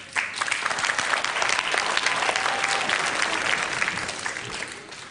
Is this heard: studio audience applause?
yes